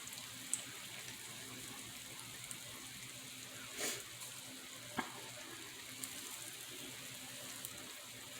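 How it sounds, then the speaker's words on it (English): Gingerbread pancake batter sizzles quietly in a pan at low volume, a soft steady hiss with a few faint clicks and one brief louder scrape. "I'm going to finish frying this"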